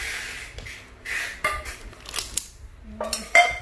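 Metal cooking pots, including a Japanese pot about 21-22 cm across and 10 cm tall, handled and set down, giving several sharp clinks and knocks spaced irregularly, close and alone with quiet gaps between.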